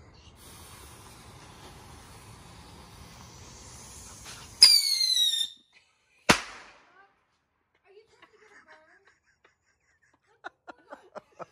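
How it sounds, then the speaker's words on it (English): Bottle rocket fireworks set off outdoors at a Fourth of July gathering: a rising whistling hiss, then a sharp bang, followed by faint scattered pops and crackles in quiet air. "He just wants to show off a bottle rocket."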